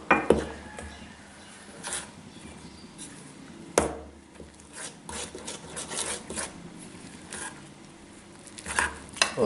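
Thick jaggery syrup being stirred and mixed in a pot for sweet bajra methi roti, giving soft scraping and rubbing strokes with a few sharper clinks, close and steady with no talk.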